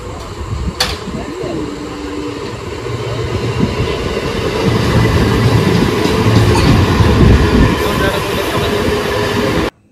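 A train rumbles at a railway station, its low mechanical roar building gradually and holding steady and loud, with a sharp click near the start and faint voices under the noise.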